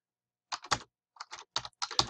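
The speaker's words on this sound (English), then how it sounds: "you have to type in the term as the information comes down" Keys clatter on a computer keyboard as answers are typed into a Quizlet review game, short bursts of quick, close tapping separated by brief pauses, with no talking.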